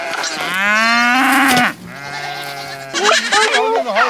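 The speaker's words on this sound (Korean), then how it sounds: "양과 염소들이 다투어 풀을 찾아갑니다" Sheep and goats on a Mongolian pasture give loud, close bleats. Two long drawn-out calls come one after the other, followed by a run of shorter, wavering bleats.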